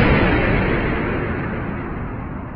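An explosion sound effect stands in for the Big Bang: one loud, broad, rumbling blast that hits at full force and then slowly dies away over a couple of seconds, with no voices.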